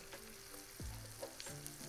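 Red potatoes frying in butter in a pan, a soft continuous sizzle with a few faint clinks and scrapes of turning, close and quiet with no talk.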